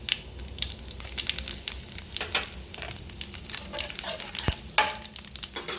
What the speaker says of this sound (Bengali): দেবো জিরে ফোড়ন একটু পুরটা করার জন্য, আর দেবো একটুখানি হিং ফোড়ন